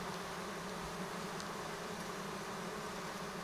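Continuous buzzing of honeybees at an apiary hive, a dense steady drone with a few individual insects passing close, no talking.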